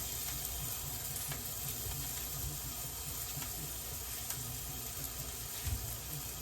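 Thin slices cooking down in a hot pan give a steady, dense sizzle that runs unbroken and fairly close throughout, with no one talking.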